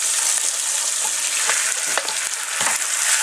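Beef meat hitting a hot pan for a beef paprika: a loud, dense sizzle and crackle that holds steady throughout, with light stirring scrapes mixed in, close and without talk.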